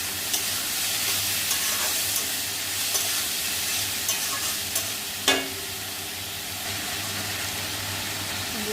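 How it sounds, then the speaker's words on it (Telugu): Boiled chickpeas frying in a pan make a steady, even sizzle with a low hum underneath, stirred with a few light taps of the spoon and one louder clack midway. "ఉడికించి పెట్టుకున్న శనగలు తీసుకొని మంచిగా కలుపుకోవాలి."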